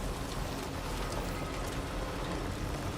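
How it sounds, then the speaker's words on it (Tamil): Steady rain hisses down in the video game Death Stranding 2, an even, moderately faint wash of falling water with no talking. "மழை வேற பெய்யுது"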